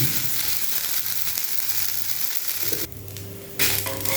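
Rava dosa frying on a hot pan with oil drizzled around it, a steady close sizzle and crackle running throughout, briefly dipping and then swelling again near the end.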